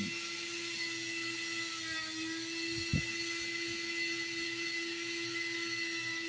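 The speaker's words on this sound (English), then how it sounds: "I am sanding, working." Hand sanding of opal on a motorized sanding machine, a steady whirring drone with a constant hum throughout and one brief louder scrape partway, close and continuous with no talking.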